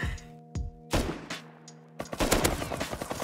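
MP5 gunfire in the Rust video game sounds as short bursts of rapid shots, several clusters cracking out over a few seconds at moderate loudness.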